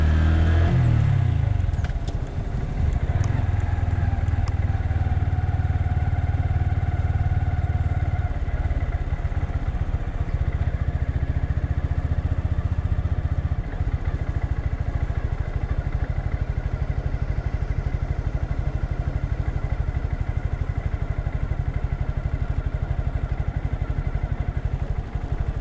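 A 2020 Honda Grom ABS motorcycle rides along city streets, its small engine droning steadily and loudly throughout with mild revving and rattling over continuous road and wind noise.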